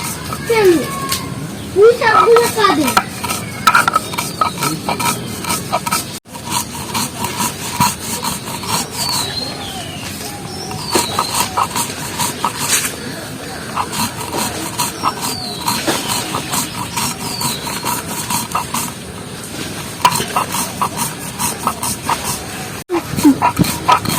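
Raw mango is ground for kasundi on a traditional sil-nora stone, the stone roller making steady, repeated scraping and grinding strokes close by, while someone talks over it and children can be heard in the background.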